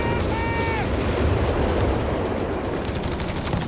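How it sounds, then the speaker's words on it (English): Zeroing artillery barrage in Company of Heroes 3, a 2v2 real-time strategy battle, rumbles as dense overlapping booms and gunfire crackle, heavy and continuous, with a brief whistling tone near the start. "Oh, it's zeroing artillery already."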